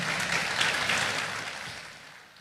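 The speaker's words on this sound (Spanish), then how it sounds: "Denle un fuerte aplauso al Señor." Congregation applauding during a Spanish-language Baptist church service, a steady broad wash of many hands clapping at moderate distance that slowly fades toward the end.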